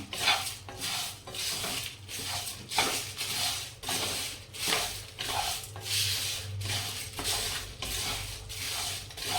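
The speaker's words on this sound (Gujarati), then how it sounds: "2 મિનિટ સુધી આપણે આ મસાલાને આ રીતના શેકીશું." Garam masala spices being dry-roasted and stirred in a hot kadai over a low flame: a steady series of gritty scraping strokes, roughly two per second, close and fairly loud, with no talking.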